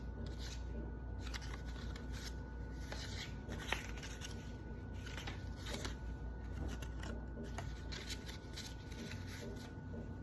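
Note cards shuffled and handled in a speech class, a steady papery rustle with scattered crisp flicks and taps close by, lasting throughout over a constant low room hum.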